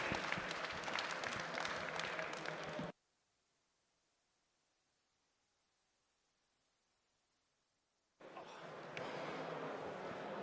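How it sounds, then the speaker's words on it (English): Conference audience applause at a Bitcoin talk, a dense burst of clapping that cuts to near silence for several seconds, then resumes just as loudly. "Round of applause."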